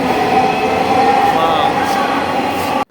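Metro rail trains pull out of a station with a loud, steady rolling rumble and rising, wavering wheel squeals, before the sound cuts off abruptly at the end.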